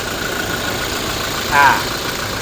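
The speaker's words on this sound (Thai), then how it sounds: "นี่เสียงเครื่องยนต์นะ" Toyota Hilux Revo 2.4E diesel pickup engine idles in a steady, smooth mid-pitched hum heard close up, with a short spoken sound briefly on top.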